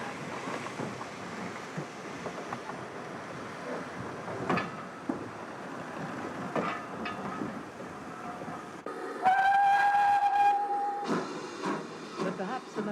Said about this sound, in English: Built in 1938 for work on the West Highland Line, she's the sole survivor of the K4 class of locomotives, designed by Sir Nigel Gresley.